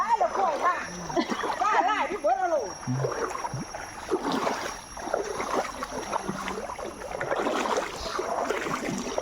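Water sloshes and splashes as people wade across a stream while foraging for wild mushrooms in a forest, with irregular nearby splashes mixed under continuous talking voices.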